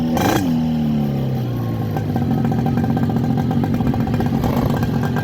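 A moped engine idles and runs steadily close by, giving a continuous low clattering putter with a slight rev at the start.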